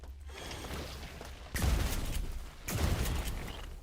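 Two heavy gunshot bursts from a weapon fired at plant mutants in the System Shock video game, each a loud crack with a rumbling tail, spaced about a second apart and heard alone without talk.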